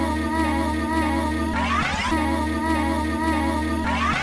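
A sampled low pad from a song, played without effects, comes through as a full, layered musical loop with sustained low tones and a steady beat, briefly shifting near the middle before repeating, with no voices.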